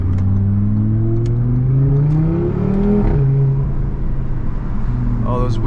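Audi RS3 engine and exhaust while driving through Boston, a loud, steady drone with rising and falling pitch as revs climb and ease, close and continuous, with talk over it.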